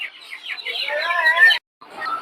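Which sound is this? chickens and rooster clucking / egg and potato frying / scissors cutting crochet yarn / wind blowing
chickens and rooster clucking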